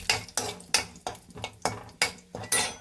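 Garlic is tossed in a hot pan for a ridge gourd chutney, giving eight regular scraping, sizzling sweeps about every third of a second, close and fairly loud with no talking.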